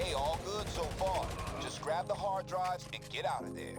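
Scattered shots from a firefight in GTA Online during an LSA Operations mission, heard faintly in the background while someone talks steadily over them.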